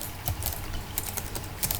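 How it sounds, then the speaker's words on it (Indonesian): Typing on a computer keyboard, with a few quick irregular key clicks close by over a quiet background. "kita ketikkan di sini"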